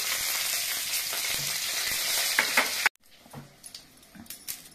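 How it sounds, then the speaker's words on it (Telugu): Dry red chillies added to hot oil with cumin and mustard seeds for a coconut chutney tempering: a close, steady crackling sizzle with small pops, which cuts off abruptly and leaves faint kitchen noise. "ఎండుమిరపకాయలు తాలింపులో వేసుకోవాలి."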